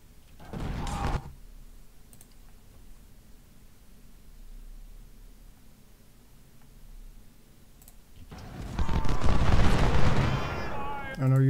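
Rifle volleys from Civil War riflemen in Ultimate General: Civil War at Chancellorsville: a short sharp crack of musketry, a long quiet stretch, then a louder, sustained rattle of shots near the end.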